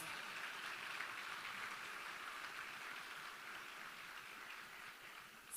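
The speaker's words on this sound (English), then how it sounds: "I think that deserves a big round of applause." An audience at a government education and training ceremony in Jamaica applauds, a dense sustained wash of clapping that stays steady and fairly loud, then eases slightly toward the end.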